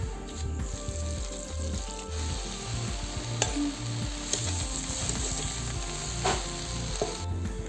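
Chopped onions fry in a pan with a steady, close sizzle, broken by brief stirring scrapes and clinks, with no talking.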